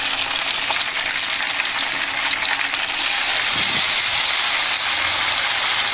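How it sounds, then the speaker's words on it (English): Loud, steady sizzling and crackling of meat frying in oil in a cooking bowl at a solo woodland campsite, a continuous hiss that grows slightly denser midway, with a faint low knock of a utensil. "cook some meat again"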